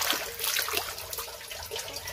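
Water drains quickly from a tilapia tank, a gurgling, splashing rush that stays steady at a moderate level, broken by brief bubbling pulses.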